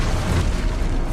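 A spell blast from the Hogwarts Legacy video game, a dense booming rumble that fills about a second with no voices.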